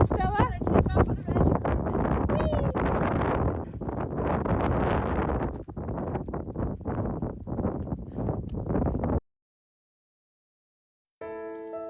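Strong desert wind gusts roar across the microphone at Quartzsite, Arizona, a continuous loud buffeting that runs for several seconds, drops out abruptly, then returns with a short burst of other sound at the end.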